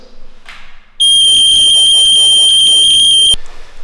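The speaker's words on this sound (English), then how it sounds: "Your smoke alarm, and in the event of a fire, in the event of excess smoke in the property, you'll hear this" A home smoke alarm shrills loud and close, a piercing steady electronic tone holding for a little over two seconds before cutting off abruptly, with quiet room noise before and after.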